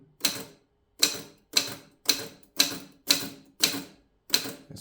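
Keys strike the paper one at a time on a Mercedes 6 manual typewriter, eight crisp, evenly spaced clacks close up, each followed by a short gap of silence.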